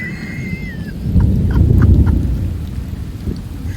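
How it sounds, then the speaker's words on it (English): Heard from inside a car on a road near Red Top Mountain, Emerson, Georgia, heavy rain drums steadily while a low thunder rumble swells through the middle and fades, with no talking. "in the middle of a lightning storm too"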